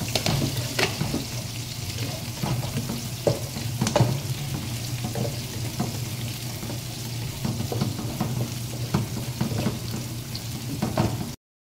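Onion and garlic sauté in a pan for chicken curry, a steady close sizzle and crackle with occasional stirring clatters, continuing evenly without talk before ending abruptly.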